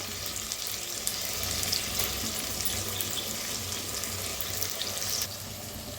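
Garlic and coconut paste frying in a hot pan, a steady bright sizzle running continuously and close, with a slight drop in level near the end.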